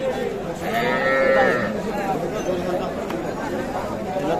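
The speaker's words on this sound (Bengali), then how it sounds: "এই পাশে আমরা দেখছিলাম আরো কয়েকটি বাছুর।" Calves mooing at a busy cattle market, a drawn-out bleating moo rising over a constant hum of crowd chatter, with people talking nearby.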